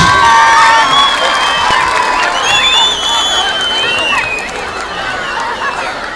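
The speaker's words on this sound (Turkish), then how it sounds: "Alkış." A youth festival crowd roars with cheering, whistles and shouting voices over clapping, a loud, continuous burst that slowly eases off.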